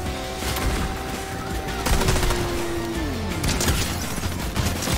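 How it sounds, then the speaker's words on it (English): Rapid gunfire in the Fortnite video game comes as continuous bursts of shots under a dense, noisy game mix, with a falling tone partway through. "Yeah, someone's shooting at me."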